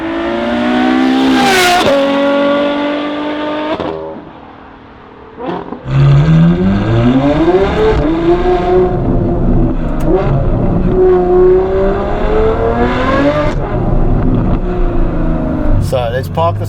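A Novitec Ferrari F12 N-Largo with its front-mounted V12 revs loudly, rising and falling howls with sharp pitch sweeps, a brief dip, then repeated hard acceleration, with someone talking over the engine.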